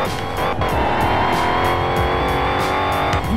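A Dodge Challenger Hellcat launches hard in a racing video game, its engine roaring loud and continuous while the tires squeal through the whole burst.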